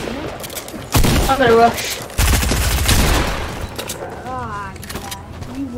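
Bursts of automatic gunfire crackle loudly in Fortnite, two dense rapid volleys mid-clip, while players talk over and between the shots.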